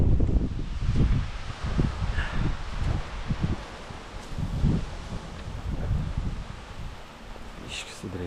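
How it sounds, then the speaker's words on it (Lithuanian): Strong wind blows outdoors in a garden, with gusty low rumbles buffeting the microphone and leaves and plants rustling continuously throughout. "Vardak, vėjas didelis."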